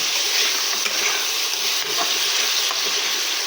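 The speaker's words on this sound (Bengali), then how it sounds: "একটু জল দিয়েছি, এটাকে ভালোভাবে একটু কষিয়ে নেব।" Chana dal and soybean curry with a little water sizzles and bubbles steadily in a pan while being stirred, a continuous close frying hiss with faint scraping throughout.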